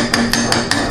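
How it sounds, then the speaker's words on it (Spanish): A spoon tapping the sides of a preserve jar lid, five sharp metallic knocks at an even rhythm within a second, close and loud with a faint ring between them. "con una cuchara golpeamos"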